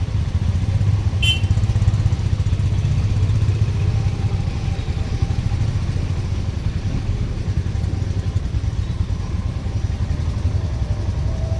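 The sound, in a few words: motorcycle engine riding downhill in first gear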